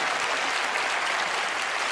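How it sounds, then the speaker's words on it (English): Studio audience at a magic show claps in a brief, dense, steady burst of applause with no voices heard above it. "Give her a round of applause"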